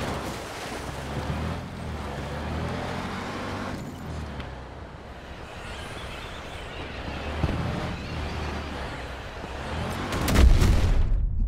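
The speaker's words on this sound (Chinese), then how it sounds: "爆炸" An explosion in a multiplayer shooter game near the end, a loud sharp burst rising over a steady rumble of vehicle engines and distant battle noise.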